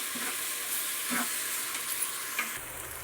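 Ginger garlic paste, two spoonfuls, frying in a pan, a steady broad sizzle with a few soft stirring scrapes, close and steady, without talk.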